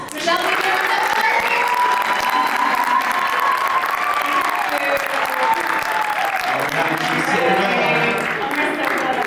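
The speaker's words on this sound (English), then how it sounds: "We'll have one more round of applause." Steady audience applause from a large crowd at a live business conference, dense and continuous clapping throughout, with a faint voice briefly audible over it.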